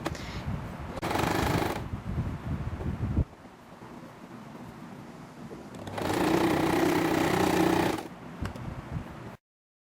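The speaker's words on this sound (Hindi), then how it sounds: "इसके किनारे के ऊपर सिलाई लगा लेंगे" Sewing machine stitching fabric for a hijab cap, two bursts of fast rattling stitching a few seconds apart, the second longer, with quiet fabric handling in between.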